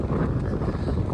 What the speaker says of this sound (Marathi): वारा हो बाबा